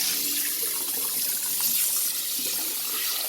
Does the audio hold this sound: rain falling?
no